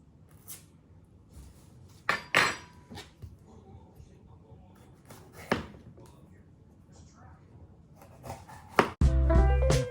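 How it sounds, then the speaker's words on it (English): Vegetables chopped with a knife on a board for a stir fry, a few sharp scattered cuts and clatters in a quiet kitchen, with a louder burst of sizzling or clatter at the end. "now we're gonna cut up some vegetables"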